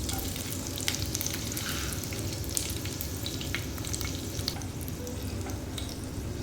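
Chopped garlic and green chili hit hot oil with five-spice seeds in a frying pan, giving a continuous close crackling sizzle dotted with light stirring clicks and a faint low hum underneath.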